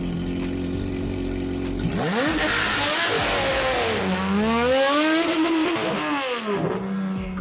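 A Porsche 911 GT3 RS fitted with a custom exhaust launches hard, idling loud up close before the engine rips through rising, falling and rising revs in a sustained high-pitched howl, with no voices.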